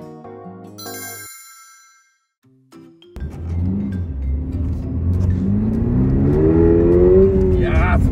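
A new Subaru BRZ sets off on a snowy road. A few electronic dashboard chimes come first, then the engine starts up and revs upward with rising pitch, loud and close inside the cabin.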